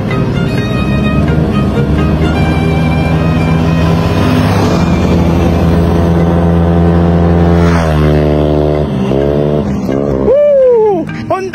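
A Honda Click scooter, stock apart from cams and porting, revs hard during a test drive, its loud engine climbing and falling in pitch through repeated throttle bursts, with a sharp rising whine near the end.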